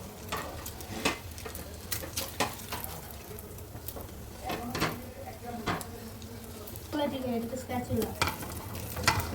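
Small snack pieces frying one by one in hot oil, a steady bubbling sizzle with scattered stirring clicks and scrapes of a utensil, fairly close and moderate in level.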